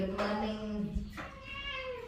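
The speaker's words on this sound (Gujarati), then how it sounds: "આ આવી ગઈ જો બિલાડી" A cat at a home in the morning gives two rising, tonal meows about a second apart, faint and somewhat distant, with quiet room background.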